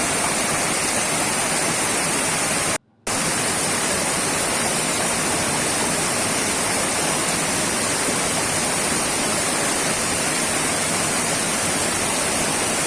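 A fast, strong river current rushes near Curug Cibingbin waterfall, a loud unbroken roar of water close by, briefly cut out once early on, with no talk.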